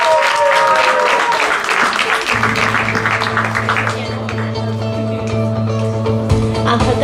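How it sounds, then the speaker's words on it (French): A crowd at a singing contest claps loudly and continuously, a dense wash of applause that keeps going as a low musical hum joins in beneath it. "On applaudit, s'il vous plaît."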